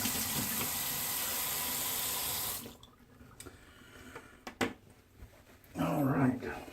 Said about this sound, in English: let me get rinsed off here